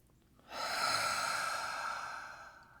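A single long, breathy exhale blown out onto a crystal or stone, starting after a brief quiet moment, swelling quickly and fading gradually, close and fairly soft.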